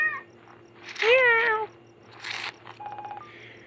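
A cat gives a clear, drawn-out meow in the middle, followed by a few softer chirping sounds, with no talking over it.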